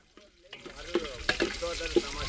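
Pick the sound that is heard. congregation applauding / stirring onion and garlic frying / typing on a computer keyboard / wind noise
stirring onion and garlic frying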